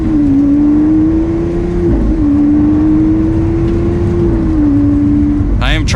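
A Lamborghini Aventador LP700-4 with a single-clutch gearbox drones loudly from inside the cabin while driving, holding a steady engine note with a brief dip like a gear change, then rising at the end; a voice speaks over it.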